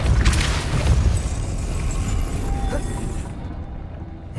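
A Depulso spell cast in the Hogwarts Legacy video game gives a deep, booming burst up front that rolls out into a dense rumble and fades over a few seconds. A faint voice is also present.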